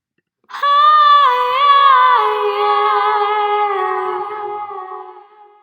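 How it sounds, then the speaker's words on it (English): A sustained, wavering howl-like tone with rich harmonics starts abruptly, then trails away into a fading echoing delay-effect tail. "as the audio is still playing, we start to get some delay coming through"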